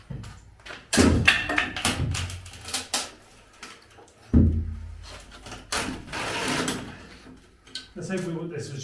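An old door in a house with hidden rooms is handled and opened, giving heavy wooden thunks, knocks and scraping rattles. Voices talk over the handling.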